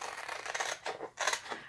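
Scissors cutting out a paper craft transfer, two quick bursts of crisp snipping and rustling, close and fairly faint, with no talk.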